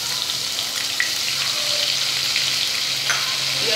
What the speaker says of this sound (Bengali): এবারে পেঁয়াজ কুচিগুলো দিয়ে দিচ্ছি।